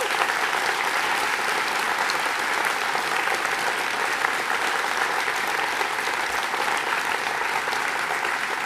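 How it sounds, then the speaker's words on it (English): A conference hall audience at a Welsh Labour Party gathering applauds steadily, a dense, continuous wash of clapping with some cheering mixed in, loud and sustained throughout without pause. "Should we give them a cheer?"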